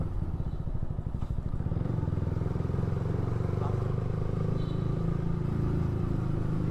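A commuter motorcycle used for ride-hailing runs steadily in gear with a continuous, close engine drone and road noise, no talking over it.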